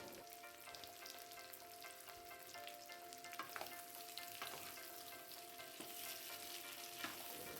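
Half-boiled potatoes frying with onions in a pan of oil, a soft continuous sizzle with occasional stirring clicks and scrapes, fairly quiet and with no talk.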